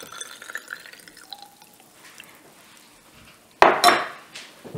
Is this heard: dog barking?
no